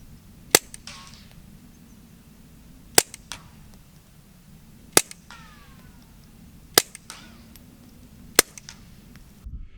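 Five sharp, muffled gunshot cracks from a .22 fired through a SilencerCo Sparrow 22 suppressor ring out, spaced a couple of seconds apart, each followed by a faint mechanical clatter against a quiet outdoor background.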